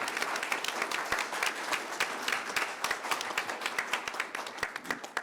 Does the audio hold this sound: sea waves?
no